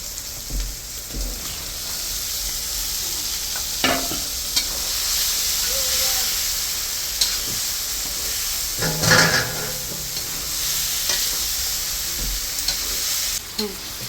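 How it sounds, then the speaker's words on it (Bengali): Chicken pieces being stirred and slow-fried with spice masala in hot oil for chicken kosha, a steady close sizzle with occasional scraping stirs, no talking. "চিকেনটা খুব সুন্দর করে কষে নিচ্ছে অনেক সময় পর্যন্ত"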